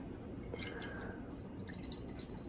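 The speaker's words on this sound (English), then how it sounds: "what I'm going to do to demonstrate bottom watering is pour some of this in" Water poured from a watering can into a houseplant's pot for bottom watering, a soft, steady close trickle and splash lasting a few seconds with no talking.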